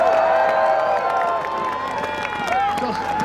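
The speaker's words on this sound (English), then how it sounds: "How about a big round of applause again for the CPKC Holiday Train in Smiths Falls?" A crowd at the CPKC Holiday Train stop in Smiths Falls claps and cheers in a steady wash of applause, with shouts and whistles over it and a voice ringing out through it.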